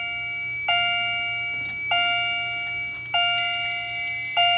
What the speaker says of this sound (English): both the main panel and the Annunciator will keep beeping